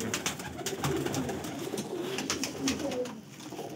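A pigeon from a prized bloodline coos in soft, low repeated calls close by, over light background rustling and faint ambient noise.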